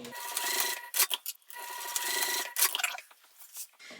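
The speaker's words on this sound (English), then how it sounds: "So let's just baste that edge just 1/8 of an inch away from the raw edge." A sewing machine runs in short bursts, basting the edge of a Jessica Bag by Sallie Tomato 1/8 inch from the raw edge, with a steady mechanical whir broken by brief pauses and faint fabric rubbing.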